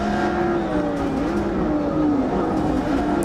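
AI-driven race cars at Sebring in Forza 6, engines droning loudly and continuously, with a shifting, revving engine whine running under a dense steady roar of tyres and wind.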